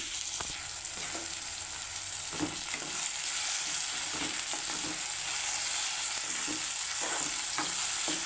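Onion, tomato and broad bean pieces stir-frying for a tomato curry make a continuous soft sizzle, broken by regular scrapes and taps of a spatula against the pan.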